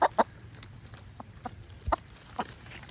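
Chickens at a small monastery farm cluck in short, scattered bursts while feeding on corn on the cob, fairly close, with quiet gaps between calls and no talk.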